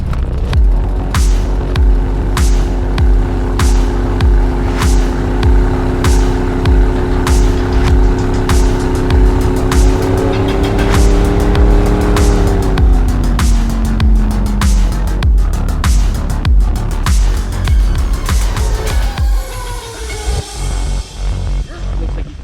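Loud boat motor roar building and revving, its pitch rising then shifting as the motor accelerates hard, with rushing noise around it.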